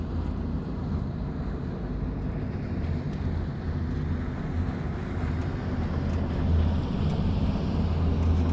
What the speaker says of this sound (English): the wind came back.